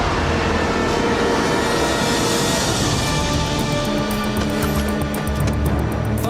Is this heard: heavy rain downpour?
no